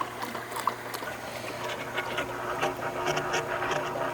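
An old Kenmore top-load washing machine with a noisy transmission agitates, giving a busy mechanical churning with a low hum and irregular clanks and knocks, close and moderately loud, with no talking.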